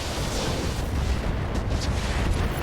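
Weapons fire in the mech combat game RogueTech, with a binary laser among them, as a dense, continuous barrage of rumbling booms and blasts that stays loud and steady throughout.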